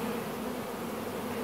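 Newly installed Carniolan honeybees buzz in a dense, steady drone inside the hive, close and continuous with no pauses.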